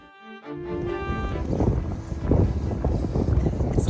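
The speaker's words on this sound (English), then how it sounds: "It's a little windy" Wind gusts across the shore of Iceland's Snaefellsnes Peninsula, a rumbling microphone buffeting that rises after a brief tonal sound at the start and grows louder toward the end.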